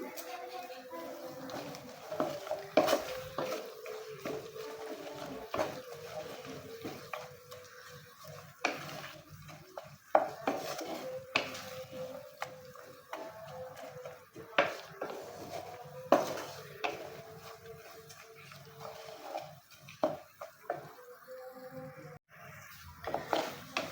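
Homemade herbal hair oil on a very low flame, stirred in a pan with a spoon that scrapes and taps the metal at irregular intervals, fairly faint, with a voice talking over it.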